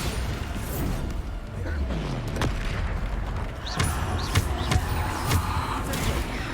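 The Bombarda explosion spell in the Hogwarts Legacy video game sets off several booming blasts and crashes amid busy combat effects, loud and continuous with game sounds layered throughout.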